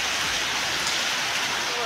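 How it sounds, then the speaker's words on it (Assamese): Heavy rain pours onto a flooded road in Guwahati, a steady, dense, close hiss of falling water that runs unbroken for the whole short stretch. "বাৰু বৰষুণ পেলাই আছোঁতো মই ইয়াৰ পৰাই দেখাইছোঁ পূৰা"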